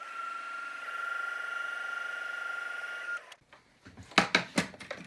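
A heat tool for card making whirs steadily as a loud, even blowing hum for about three seconds, then cuts off, followed by a few sharp handling knocks and clatters.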